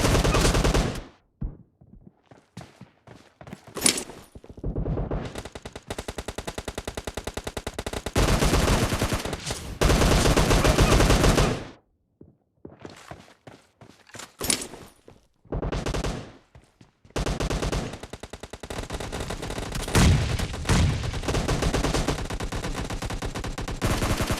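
Gunfire rings out in a PUBG Mobile Lite team deathmatch: loud bursts of automatic fire and single shots alternate with short silent gaps throughout, with no voices over them.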